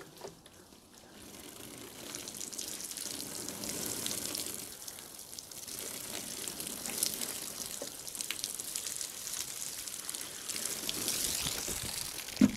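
Water pours steadily and gently from a watering can onto the base of a tree fern for several seconds, a soft splashing hiss that builds slightly, ending with a small knock.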